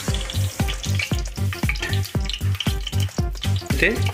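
Spices crackling and sizzling in hot oil for prawn biryani while a ladle scrapes the pot in quick, even strokes, close and fairly loud throughout.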